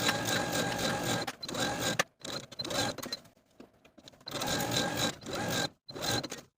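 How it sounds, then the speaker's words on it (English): A sewing machine stitches a romper seam allowance a quarter inch from the first stitching line, running in close bursts of steady whirring with short pauses between runs. "Then we're going to stitch once again 1/4 inch away from your original stitching line within your seam allowance"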